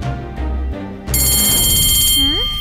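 A school bell rings loudly and continuously in a cartoon school setting, a bright metallic clanging that starts abruptly and keeps going, with a low musical tone and a rising sliding effect near the end.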